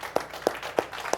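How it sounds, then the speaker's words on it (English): An audience applauding a woman introduced on stage, heard as a few sparse, evenly spaced claps, fairly quiet and brief. "please give a round of applause for Sister Nicki as she"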